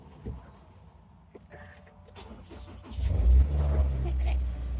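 A car is started by push button with its door open, giving a few faint clicks before the engine cranks and catches, then settling into a loud, steady idle at close range.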